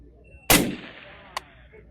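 A single loud rifle shot cracks out sharply and rings briefly, followed about a second later by a fainter, short metallic impact from a steel target during long range match training at the 100 yard line.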